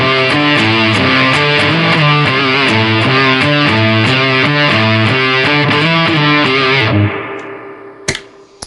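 Electric guitar with fuzz and overdrive only, no univibe, played on the bridge pickup through a vintage amp in a closed cabinet, loud, dense and rhythmic, then stopping with a couple of sharp clicks in the quiet afterward.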